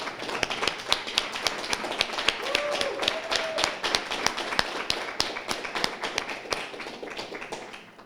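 Small audience claps for a colleague, a dense run of sharp individual hand claps lasting several seconds, close and steady before tapering off at the end.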